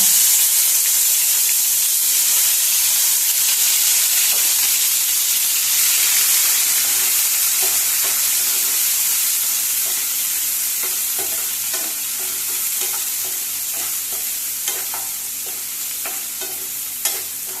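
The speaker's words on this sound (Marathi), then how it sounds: "कांदो बरो फ्राय जालो की ना, कांदो बरो फ्राय जावपाक" Onions frying with a bay leaf in a pan for Goan-style green chicken, a steady loud sizzle and hiss with occasional stirring scrapes, no talking.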